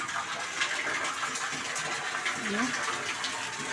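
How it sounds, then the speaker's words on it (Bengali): Water gushes steadily into a filling tank with a continuous rushing splash, while a voice talks over it. "এখান জল পড়ছে ট্যাঙ্ক ভর্তি হয়ে গেল"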